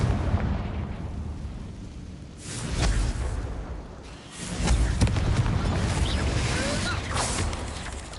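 Confringo blasting spells burst in Hogwarts Legacy, loud booming explosions arriving in a couple of distinct waves, each with a sharp crack and rolling rumble, over a busy combat backdrop.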